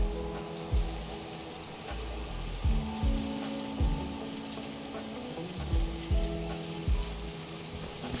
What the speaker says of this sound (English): colouring this ox cheek. You can use a casserole pot or a saucepan, whichever you've got at home really.